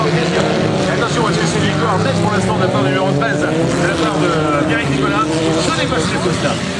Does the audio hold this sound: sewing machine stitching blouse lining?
no